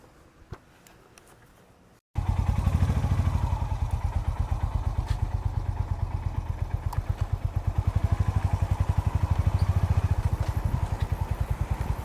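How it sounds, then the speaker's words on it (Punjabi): A motorcycle engine starts after a brief quiet moment and runs with a steady rhythmic thumping, close and loud throughout, near Bilaspur by the Sutlej. "ਅਸੀਂ ਮੋਟਰਸਾਈਕਲ ਤੇ ਜਿੱਥੇ ਤੱਕ ਆ ਸਕਦੇ ਸੀ ਅਸੀਂ ਆ ਗਏ ਆ"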